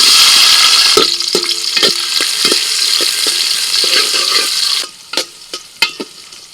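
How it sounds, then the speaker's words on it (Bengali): Cashews and raisins fry lightly in white oil in a pot, a loud steady sizzle with intermittent scraping stirs and clinks, the bubbling thinning out toward the end. "কাজু কিশমিশ একদম হালকা করে ভেজে তুলে নিচ্ছি।"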